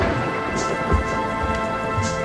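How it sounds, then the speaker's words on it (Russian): Thunderstorm with steady heavy rain heard from indoors beyond a window, a dense continuous rush with low rumbling thunder mixed in, loud and unbroken throughout. "за окном гроза."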